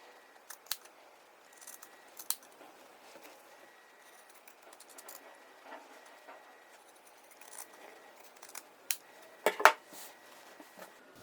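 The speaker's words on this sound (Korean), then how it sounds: "그리고 여기 곡선 부분의 시접을 반 정도 잘라내주세요" Scissors trim the seam allowance along the curved edge of a thin fabric oven-mitt lining, giving a sparse series of faint, crisp snips with quiet pauses between cuts and no talking.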